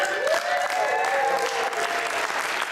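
A crowd at a Cub Scout Arrow of Light ceremony applauds steadily, a dense, even clapping that fills the room, with a faint voice or tone trailing beneath it.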